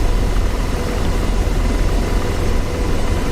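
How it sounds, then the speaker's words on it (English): A loud, continuous AH-64D Apache attack helicopter engine in the video game DCS World drones and thumps steadily throughout, close and powerful, with no voices. "helicopter sounds real beefy"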